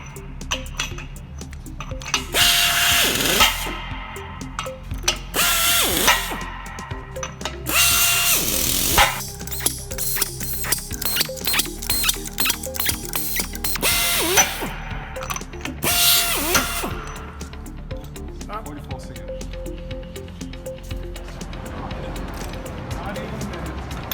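A nut runner loosening flange bolts fitted with Velocity Washers gives loud ratcheting mechanical bursts, several in a row with short gaps between them.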